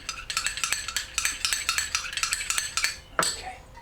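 A whisk rattles quickly and steadily against the sides of a bowl, mixing cornstarch, a rapid metallic clicking that continues throughout.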